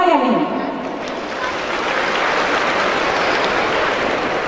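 An audience of police personnel applauds at a police welfare event, a loud continuous wash of clapping that follows a sweeping tone and holds steady for several seconds.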